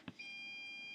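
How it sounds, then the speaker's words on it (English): A steady high electronic warning beep from a QNAP NAS device, holding one tone after a brief click, clear but fairly quiet. "I guess that's the beeping of this QNAP to warn you"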